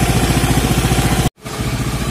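A warm Honda Beat motorcycle with a PE24 carburetor runs loud and close in a rapid pulsing rhythm, then cuts out abruptly for a moment, stuttering before it picks back up again.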